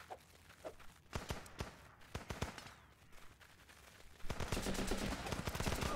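Shotgun fire in the video game Running With Rifles on a snowy map: rapid, sharp shots crack in uneven clusters, growing louder and denser near the end, with no talk.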